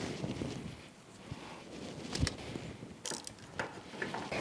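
Ratcheting wrench tightening nuts on a Honda Grom motorcycle, quick faint clicking strokes close by with small metallic ticks and no voices.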